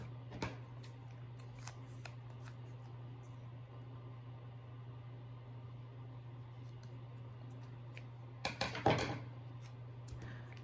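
Scissors trim a piece off a paper Jibun Techo planner page, a quiet, brief cluster of snips near the end after a few faint handling taps, over a low steady hum.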